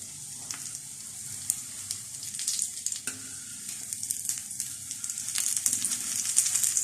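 Aloo tikki, potato patties with besan, fry in a pan with a steady, close sizzle, with occasional crackles and pops that grow a little busier toward the end.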